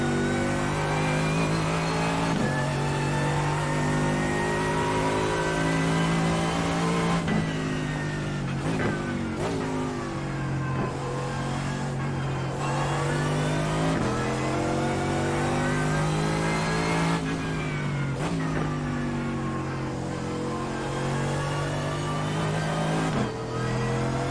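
A race car engine in the iRacing sim revs and spools up, holding a steady mid-pitched drone with several sharp throttle lifts and re-accelerations, loud and close, with no talk.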